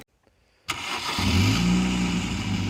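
A Ford Puma with an aftermarket exhaust line starts up and revs after a near-silent pause, settling into a loud, steady engine drone close by.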